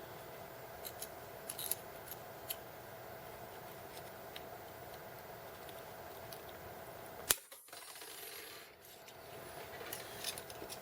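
A single sharp snip near the middle of a quiet room tone as cutters bite through one coil of a Smith & Wesson M&P pistol magazine spring, followed by brief handling rustle.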